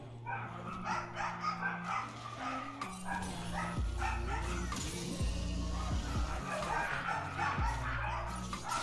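Dogs bark and yip during an online video game match, with short repeated barks layered over steady game music and sound effects.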